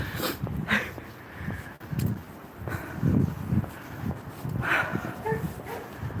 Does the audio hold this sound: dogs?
yes